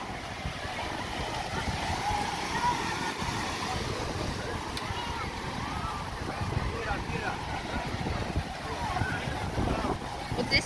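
Strong wind buffets the microphone on an Atlantic ocean shore by a lighthouse near Rabat, Morocco, a steady dense rush with surf underneath and no clear talk.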